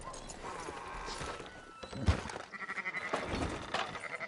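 Sheep bleat at intervals amid clip-clop hooves and horse noises on a farm in Red Dead Redemption 2, with game ambience and scattered talk.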